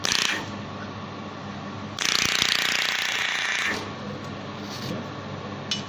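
A 500W/600W handheld fiber laser welding machine with a 5 m fiber cable welds metal, giving a bright, steady hissing buzz that cuts in sharply, holds for about two seconds, then drops back to a quieter machine hum.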